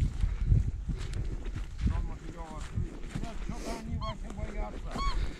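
A flock of geese honks repeatedly during a spring goose hunt, nasal calls coming in clusters at moderate distance over rustling and movement, with muffled human voices mixed in.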